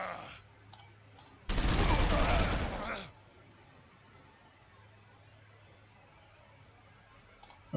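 A burst of gunfire from the Warhammer 40,000: Sanctus Reach strategy game, fired by Ork units, roars as a dense loud volley lasting about a second and a half, set against quiet background ambience.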